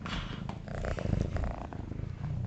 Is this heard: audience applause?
no